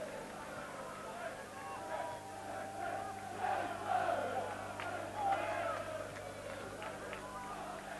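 Football crowd at Gay Meadow, Shrewsbury, cheering and chanting in a play-off match, a distant, rolling roar that swells twice beneath a commentator's voice.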